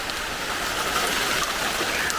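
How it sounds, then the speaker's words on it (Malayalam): Rain falls steadily in a dense hiss, with scattered drops pattering on surfaces nearby, moderately loud and with no voices. "അയ്യോ മഴ"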